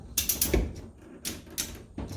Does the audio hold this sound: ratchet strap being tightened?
yes